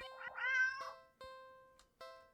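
A cat meows in the game Don't Take This Cat Home, one long drawn-out call followed by two shorter meows, clear and close with nothing else around them.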